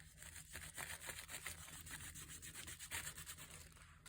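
A finger rubs color onto altered paper clips in a craft project. It makes a soft, continuous close-up scrubbing and rubbing texture with faint repeated strokes, very quiet, with no talking.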